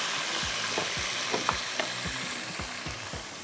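Tomatoes and curry leaves fry in a pan with a steady, close hiss, broken by regular scraping stir strokes roughly every half second, with no voices.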